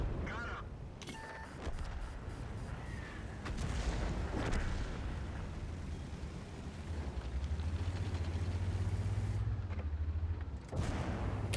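A tank gun in World of Tanks video game fires, with sharp booming blasts and heavy rumbling engine noise building underneath, several abrupt bangs spread across the stretch.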